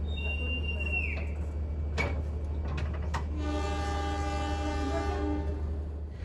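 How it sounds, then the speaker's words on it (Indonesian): A local economy KRD commuter train pulls into Kapas station in Indonesia. Its horn sounds a few short blasts, then a long sustained blast rings out over the steady low rumble and clatter of the train. "api ekonomi lokal KRD tiba di stasiun Kapas"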